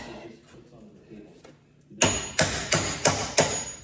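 Five loud, evenly spaced hammer blows ring out after a stretch of quiet, muffled background noise.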